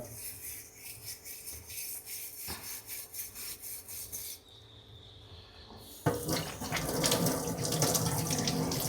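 A brass lamp is scrubbed by hand with foam cleaner, giving steady close rubbing and rasping strokes, then a louder burst of running water near the end.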